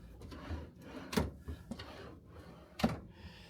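Wooden desk drawers in a cruise ship balcony cabin slide and thump shut, with two sharp knocks and softer rubbing scrapes in between, close and quiet with no talking.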